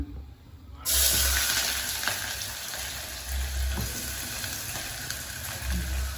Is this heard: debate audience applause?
no